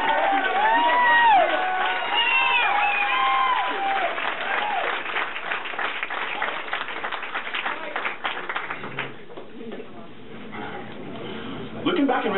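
An audience at a spoken-word poetry event bursts into sustained applause with cheers and whoops, a steady crowd roar that thins toward the end.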